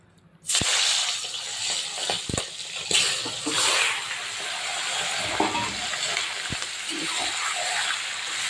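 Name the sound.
meat sizzling in hot oil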